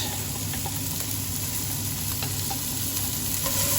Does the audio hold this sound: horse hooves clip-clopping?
no